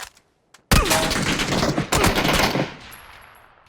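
Burst of rapid automatic gunfire in the battle royale game PUBG, loud and close, a dense rattling volley lasting about two seconds before trailing off into quieter echoing shots.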